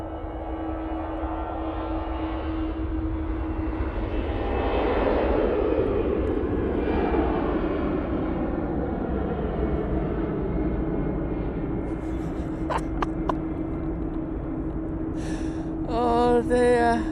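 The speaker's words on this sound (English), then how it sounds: "EasyJet, now in frame. This one's off to Paris Charles de Gaulle Airport using their A320-200." An easyJet Airbus A320-200 departs Manchester Airport bound for Paris Charles de Gaulle, its jet engines a loud, sustained roar that swells and slowly recedes, with a few faint clicks near the end.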